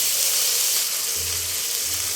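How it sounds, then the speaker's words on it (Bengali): Spices with chopped onion, salt and ginger-garlic paste fry in a pan, giving a loud, steady, broadband sizzling hiss that runs unbroken throughout, with no speech. "মশলাটা ভাজা ভাজা হয়ে আসছে।"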